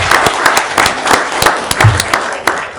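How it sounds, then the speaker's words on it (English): Close, loud clapping from a small audience at a township committee meeting, individual sharp hand claps forming an uneven burst of applause with no voices over it. "You deserve an applause as well."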